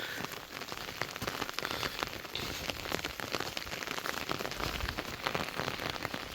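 Steady rain patters densely on a surface, a continuous hiss of drops with no pauses throughout.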